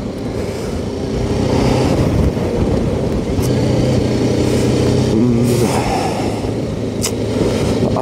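A motorcycle being ridden on a road toward Bettada Byraveshwara temple near Mudigere, with a loud, close, steady engine drone and wind rush that rises and falls slightly with the throttle, with no talk.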